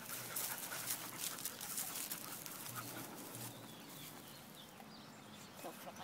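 Several rescue dogs pant and whimper close by in a home, a steady breathy texture with faint bird-like chirps behind and occasional brief voices.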